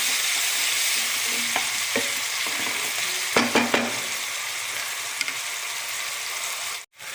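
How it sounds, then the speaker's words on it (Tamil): Ginger and garlic sautéing in a pan make a constant bright sizzle with a few scattered clinks of a stirring spoon, close by and steady throughout. "இந்த பச்சை வாசனை போகிற வரைக்கும் கொஞ்சம் வதக்கலாம்."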